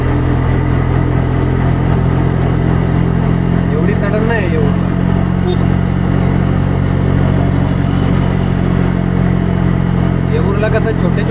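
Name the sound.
auto rickshaw engine climbing a ghat road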